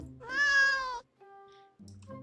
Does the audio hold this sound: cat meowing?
yes